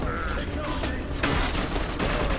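A lava gun fires in the video game Inversion, a dense burst of gunfire-like blasts and rumbling booms, loud and continuous throughout.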